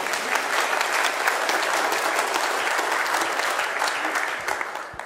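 Church congregation clapping together in a dense, steady burst of applause that fills the room, loud and sustained before tapering slightly at the end.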